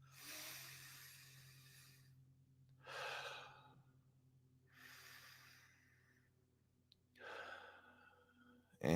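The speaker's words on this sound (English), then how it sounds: "2 deep inhales, complete exhales" Several slow, deep breaths, each a long inhale followed by a full, airy exhale, recorded close and quiet over a low steady background hum.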